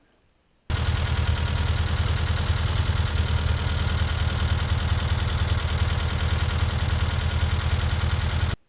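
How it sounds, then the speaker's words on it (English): A rebuilt VW 2332cc stroker engine in a truck fires up abruptly and runs at a steady, loud, rumbling idle with a fast even pulse, close by, alone with no talk, cutting off at the end. "I reassembled the rest of the engine and reinstalled it in the truck, eager to hear how it would sound."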